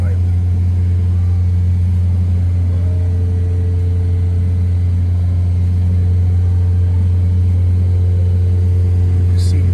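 A 2019 Honda Accord with a straight-pipe exhaust runs inside a shop, holding a steady raised rpm with a loud, constant low drone that fills the room.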